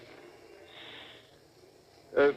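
A person voices a short, breathy hissing imitation, like a fizzing rocket, loud and close, coming after a stretch of quiet murmured background.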